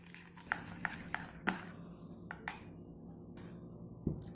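A spoon clinks against a glass or bowl while warm milk soaked with saffron is stirred. The taps come as a few sharp clicks with gaps between them, close and fairly quiet, with no talking.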